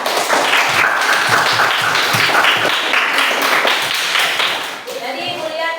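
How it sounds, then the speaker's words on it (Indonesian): A classroom of children claps together in a brisk, close burst of applause, the clapping tapering off as young voices start talking. "Berikan tepuk tangan"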